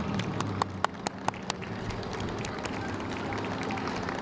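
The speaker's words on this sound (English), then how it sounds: "The crowd is clapping as they're going through." Scattered hand claps ring out from a crowd at an outdoor small-town Christmas parade, the sharp claps sparse and irregular over a steady background murmur, fading to a softer wash of ambience.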